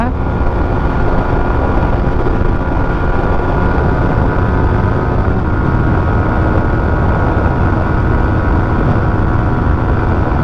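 Yamaha MT15 v2 motorcycle from 2023 with a loud exhaust cruising in fifth gear, a steady close-up engine drone and rushing wind noise continuing without break.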